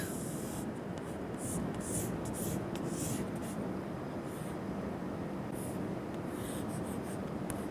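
Marker or chalk drawing a flat plate diagram on a board during an aerodynamics lecture on static stability, with steady scratchy strokes in short bursts over a constant background hiss, close and moderately quiet.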